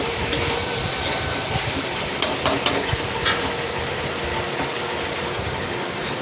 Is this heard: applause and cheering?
no